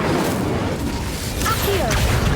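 A fiery Incendio spell cast in the Hogwarts Legacy video game produces a steady, loud roaring burst that holds for a couple of seconds, with faint airy whooshes near the end.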